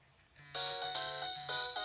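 Nokia 3109c mobile phone ringtone: a bright, melodic electronic tune of rapid tonal notes that begins after a brief quiet lead-in and plays loud and close, with no talking.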